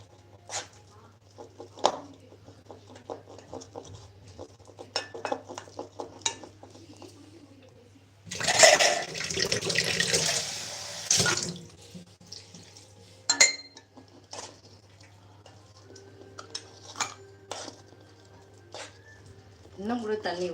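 Water splashes and pours for a few seconds into henna mixture in a quiet kitchen, amid light clinks of utensils and dishes, with a low hum and brief talk around it.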